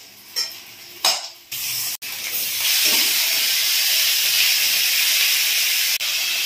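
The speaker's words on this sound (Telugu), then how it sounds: "ఇలా చికెన్ ఉల్లి సగం వేగింది కదండి, ఆ టైంలో మనం చికెన్ వేసేసుకోవాలి." Chicken pieces dropped into a pan of half-fried onions, with a couple of quick clatters followed by a loud, steady sizzling hiss that fills the rest of the moment, close up.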